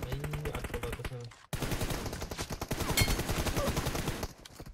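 Rapid automatic gunfire from a PUBG Mobile match crackles in dense, fast bursts, loud and close, with a brief cut near the start and a scrap of voice beneath.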